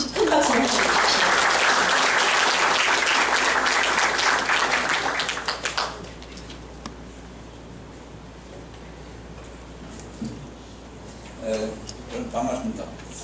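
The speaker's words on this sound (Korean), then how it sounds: "환영을 큰 박수로 해주십시오." A large audience at a formal committee launch ceremony in a Seoul science hall gives loud, dense applause for about six seconds as a speaker is welcomed. It then drops to quiet room noise, with brief stirrings near the end.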